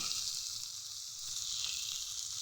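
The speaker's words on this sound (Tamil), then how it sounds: "பாட்டி இங்கே வந்து கொஞ்சமாக எண்ணெய் ஊற்றி அதை ஃப்ரை பண்ணிக்கிட்டு இருக்காங்க" Small pond fish fry in a little oil on a dosa pan, making a soft, steady, close sizzling hiss that continues evenly without a break.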